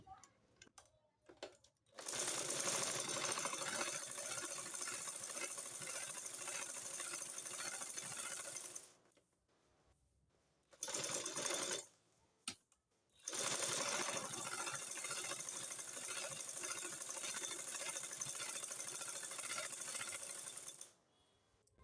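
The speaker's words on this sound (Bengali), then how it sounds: "এই সেট দিয়ে আরেকটা সেলাই দিয়ে নেব" Sewing machine stitching a gathered burqa, running in long continuous bursts of rapid mechanical whirring, with short pauses between runs and no voices.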